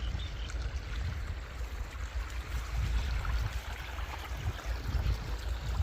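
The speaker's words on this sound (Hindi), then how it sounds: "अल्हम्दुलिल्लाह पानी बड़े ही खूबसूरत अंदाज में हमारे खेत की तरफ जा रहा है।" Irrigation water runs through a recently cleaned earthen channel into a fodder field in Punjab, Pakistan, making a steady, close rushing and gurgling sound that continues without a break and has no voices over it.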